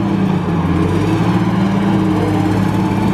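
An engine running with an exhaust leak from a cracked manifold or manifold gasket gives a loud, steady, rough drone with a fast ticking pulse, continuous and close throughout.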